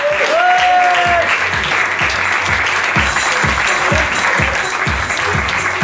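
A casino crowd applauds a judo champion at an anniversary celebration in Salies-de-Béarn with loud, sustained clapping over a regular thumping beat, and a brief tonal whistle-like sound near the start.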